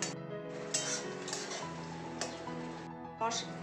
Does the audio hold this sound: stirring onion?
yes